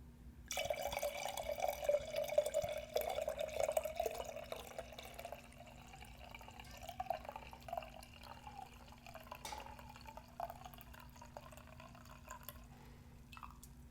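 A close, quiet pour of wine into a glass opens with a steady gurgling stream that gradually tapers into faint trickles and drips over the remaining seconds.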